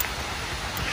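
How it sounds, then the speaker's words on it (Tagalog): Heavy rain pouring outdoors at a rural native chicken farm, a dense continuous hiss close by with no breaks. "Lakas na po ng ulan."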